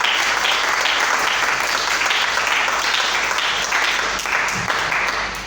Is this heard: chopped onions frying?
no